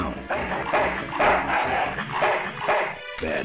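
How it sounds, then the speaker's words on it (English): Dog in the adventure game Full Throttle barking repeatedly, a run of loud close barks and yips in an uneven rhythm, with no voices over it. "Bad dog."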